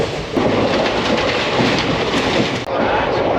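The Radhikapur Express, just departed Kolkata, rumbles past loudly and close, a dense continuous roar of wheels and carriages with a brief dip near the end.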